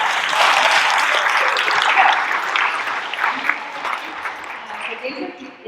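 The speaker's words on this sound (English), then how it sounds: "Go ahead, clap" Audience clapping at a whistleblower town hall during a Freedom Fest event, a sustained crowd applause that tapers off over several seconds as voices come through.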